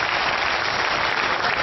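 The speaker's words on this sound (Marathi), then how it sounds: "एकदा जोरदार टाळ्यांच्या गजरात दाद द्या" A crowded audience at a Marathi poetry recital breaks into steady, dense applause, a continuous even wash of many hands clapping with no voices over it.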